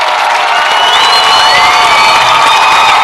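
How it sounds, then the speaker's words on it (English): Crowd at a high school football game, Fitzgerald vs. Jefferson, applauding and cheering in a dense, loud, continuous wash with scattered shouts, no talk over it. "the crowd now gives him a hand as they have finally gotten him on the stretcher"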